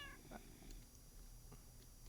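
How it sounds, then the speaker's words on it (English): A cat meows in the Minecraft modpack SevTech Ages, inside the hunting dimension, a short, faint cry over a steady game background hum, with a couple of other brief soft sounds following. "I heard a cat."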